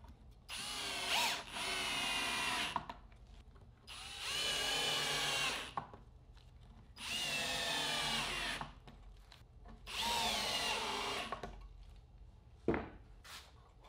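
A cordless drill drives screws into wood while a tool storage rack is assembled, four long whirring bursts of about two seconds each separated by short pauses, close and fairly loud with no talking.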